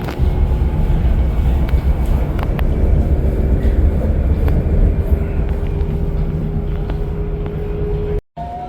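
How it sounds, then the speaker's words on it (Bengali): A local train runs along the Mediterranean coast toward Málaga, Spain, with a steady, loud low rumble and rolling hum throughout and a brief dropout near the end. "এবার ভূমধ্য সাগরের ধার ধরে ট্রেন"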